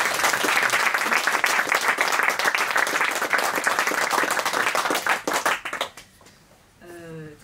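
An audience at a book signing evening for a short story collection claps heartily for the authors, a loud sustained round that thins out and stops, followed briefly by a voice speaking.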